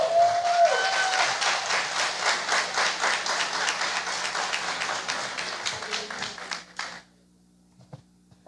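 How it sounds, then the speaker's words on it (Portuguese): A church congregation claps in rhythmic unison to welcome visiting members, with about seven seconds of steady, evenly spaced claps that fade and stop abruptly, leaving near silence. "vamos recebê-los com uma salva de palmas"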